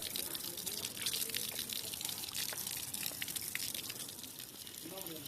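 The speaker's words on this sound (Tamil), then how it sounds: "மலை உச்சியிலிருந்து எந்த ஒரு பாதையும் இல்லாமல் இந்த மாதிரி பாறை இடுக்கு வழியாக தான் இந்த தண்ணி இந்த தீர்த்தத்துக்கே வருது" Water trickling and dripping through rock crevices into a mountain spring, a soft continuous wash with scattered small drips, faint and close throughout.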